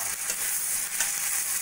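Spice paste of tomato, green chilli, ginger-garlic, turmeric and salt frying and being stirred in a pan for doi potol, a continuous close sizzle with soft scraping strokes.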